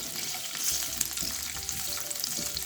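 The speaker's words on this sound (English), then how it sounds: "Put it in a low flame so the fat starts to melt." Thick-cut guanciale fries over a low flame, giving a continuous close-up sizzle with crackly spitting of rendering fat and a few light stirring knocks. No voices are heard.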